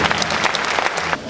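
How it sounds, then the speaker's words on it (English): A church congregation claps heartily together during a service, dense close applause that tapers off slightly at the end. "And you give God a hearty clap"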